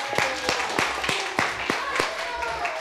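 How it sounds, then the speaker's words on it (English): An audience applauds a family at a community storytelling event, with sharp, rhythmic claps standing out in a steady beat over the crowd, close and lively, with some voices underneath. "Let's give the family a round of applause."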